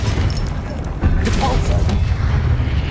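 A spell cast in the Hogwarts Legacy video game, a deep whooshing boom with a magical swell that sustains loudly over rumbling game ambience, heard up close.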